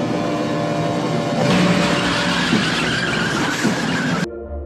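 A truck strikes and runs down a man in a Mad Max film chase, heard as a loud, sustained screech of tires and roaring engine filling several seconds before cutting off abruptly.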